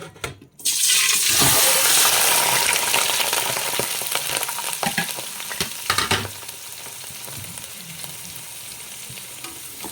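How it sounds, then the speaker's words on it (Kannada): Chicken pieces drop into hot oil and ghee for dum biryani, setting off a sudden loud, close sizzle that gradually softens into a steadier fry with stirring. "ಇವಾಗ ಎಣ್ಣೆ ತುಪ್ಪ ಕಾದ್ಮೇಲೆ ಚಿಕನ್ ಹಾಕ್ತಾ ಇದ್ದೀನಿ."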